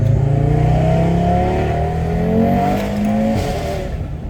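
An Audi RS3 engine revs loud and close as the wheels spin, with a rising then falling drone and a brief dip near the end.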